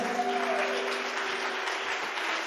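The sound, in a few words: congregation applause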